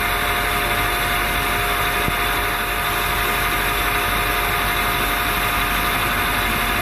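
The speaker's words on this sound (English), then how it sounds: "So now we're going to turn this first little step diameter here, then we'll drill our hole." A metal lathe turns a small 14 mm step diameter on a tuba part, producing a steady, continuous motor hum with faint tonal whine, unchanging and fairly loud, with no voices.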